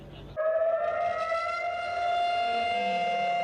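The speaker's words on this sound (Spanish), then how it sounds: "En Jerusalén, también a la misma hora, sonaban las sirenas." Civil defense sirens wail across Jerusalem in one long, sustained rising-and-holding tone, loud and steady, with no voices over it.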